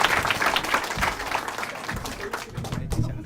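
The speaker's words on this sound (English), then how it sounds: "Please put your hands together for the very funny MRP." Stand-up comedy crowd clapping and cheering in a dense, continuous wash that fills the room, steady throughout with a slight lift near the end.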